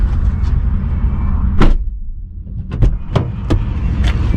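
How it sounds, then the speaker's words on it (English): An SUV door is shut from inside the car at close range, producing a loud thud followed by several sharp clicks and knocks over a steady cabin rumble. "Let me go ahead and close the door there."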